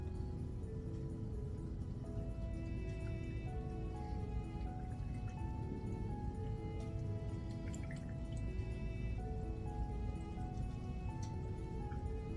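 Vinegar pours over colorful pickled vegetables with onions in a container, a continuous close splashing and trickling stream with dripping, steady for the whole stretch without talk.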